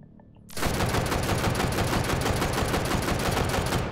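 Sustained automatic gunfire with tracer rounds in Hot Dogs, Horseshoes & Hand Grenades, starting abruptly after a quiet moment and hammering on loud and continuous to the end.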